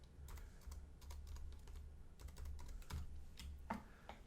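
A computer keyboard being typed on to enter the word pineapple, a quick, uneven run of close key clicks with short pauses between bursts, quiet and with no voices.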